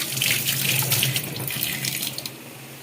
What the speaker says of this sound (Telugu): ఒక్కసారి హ్యాండ్ వాష్ చేసుకుంటాను